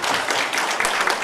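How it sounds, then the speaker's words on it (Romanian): Audience applause for a county council president attending as guest at an event, a dense, steady patter of many hands clapping close by for the whole stretch with no talk. "să-l aplaudăm"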